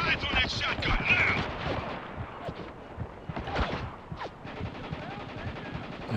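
Bursts of automatic gunfire and explosive shots in a Spec Ops: The Line firefight, loud and dense with overlapping impacts, heard under shouted voices throughout.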